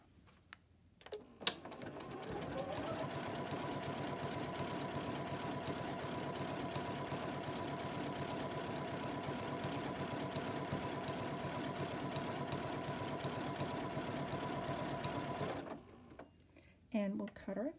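A Continental M17 sewing machine runs steadily, stitching decorative stitches in one continuous whirring stretch with a faint rhythmic buzz, starting after a brief clunk and stopping near the end, followed by small handling sounds.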